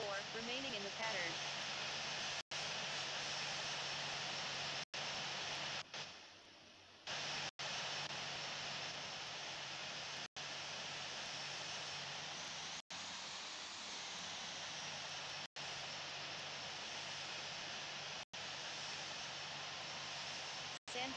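Steady aircraft engine roar from the Infinite Flight simulator game as a plane takes off from runway 24, a constant loud broadband drone with a pilot's radio voice talking over it and brief periodic dropouts.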